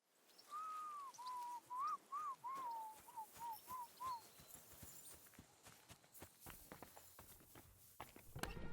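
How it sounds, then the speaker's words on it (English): Tankard whistles a bright melody of short rising and falling notes in Kingdom Come: Deliverance II as the group travels, while horse hooves clip-clop steadily underneath and keep going after the tune stops. "Your whistling is getting on my fucking nerves the whole way."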